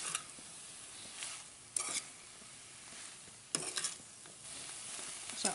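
Spices are stirred into cauliflower and green peas sabji in a pan, giving soft scraping strokes and a few sharper spoon knocks over a gentle, quiet sizzle.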